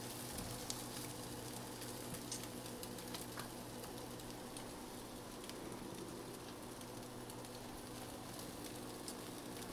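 Eggs fry in a lightly buttered pan, cooking slowly and sticking; a faint, continuous crackling sizzle runs evenly throughout with scattered tiny pops and no talk.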